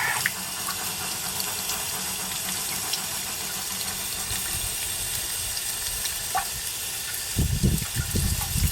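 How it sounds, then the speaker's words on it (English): A hose sprays water under raised pressure onto mud-flat terrain, a steady hissing spray that runs continuously, with louder, lower splashing bursts near the end and no speech. "A bit more water pressure, see if that works any better."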